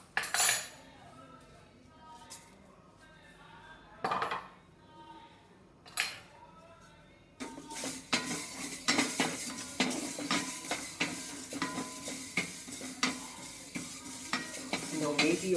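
Methi (fenugreek) seeds stirred briskly in a very hot pan for homemade rasam and sambar powder: a few isolated scrapes at first, then a continuous dry sizzle with quick, repeated scraping strokes of the spoon against the metal.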